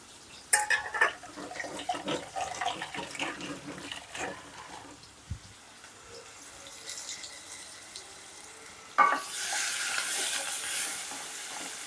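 Onions with turmeric and green chillies frying in a pan, a soft crackling sizzle with stirring scrapes and clinks, growing into a brighter, louder hiss near the end.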